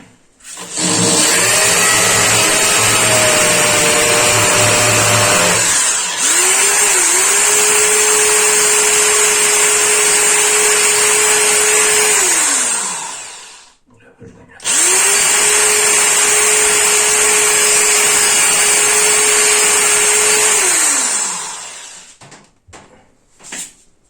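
A Hyundai HP710 hammer drill whines loudly in two long bursts while drilling holes, each several seconds, with a brief pause between them, close up and steady in pitch.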